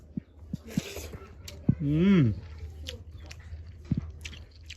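Someone eats a thin village-style curry of hilsa and poa fish, with soft chewing and biting noises close to the mic, a brief louder burst in the middle and scattered small mouth sounds.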